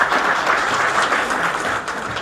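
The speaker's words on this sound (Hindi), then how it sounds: "सबसे पहले तो आप सब लोग अपने लिए तालियां बजाएं।" An audience applauds at an Indian company event honouring electricians, steady dense clapping filling the whole stretch at fairly loud level, no talk over it.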